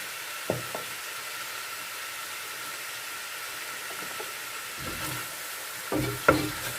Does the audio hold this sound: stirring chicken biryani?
yes